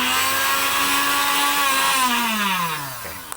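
An electric kitchen blender, brought in for repair because it runs as soon as it is plugged in, hums and whines loudly after being switched on, then its pitch falls as it spins down near the end.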